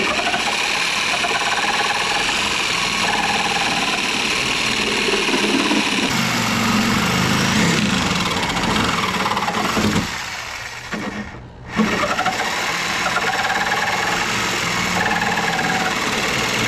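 A DeWalt power tool whirs loudly and steadily while working on a Simplicity 522 snowblower with an MTD or Tecumseh engine, holding a constant drone that briefly dips near the end before resuming.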